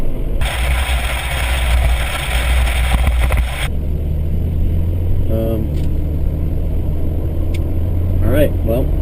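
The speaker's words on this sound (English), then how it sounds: "BP trucks going the other way." BP trucks pass by on a road with a steady engine and tire rumble that swells and then drops away abruptly. A voice talks briefly over the traffic.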